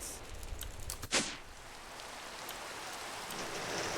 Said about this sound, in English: Oh, is it raining? Cool. I like it when it rains.